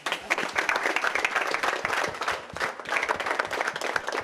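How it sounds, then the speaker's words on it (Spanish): Audience applause at a football values event, dense steady clapping from many hands at moderate volume, lasting the whole stretch with a slight dip midway. "Un fuerte aplauso."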